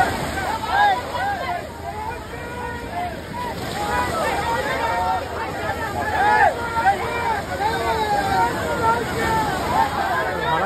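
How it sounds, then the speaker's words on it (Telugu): Sea waves breaking on the beach at Kothapatnam during a Ganesh idol immersion, with steady surf and wind rumbling under a noisy crowd and talking throughout. "సో అలలు కూడా తగులుతున్నాయి"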